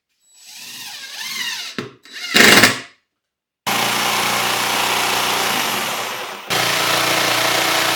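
A power tool, likely a router, cuts a recess for a router plate into a workbench worktop after holes are pre-drilled, starting with short bursts and then running as a loud, steady whine for several seconds with a brief break.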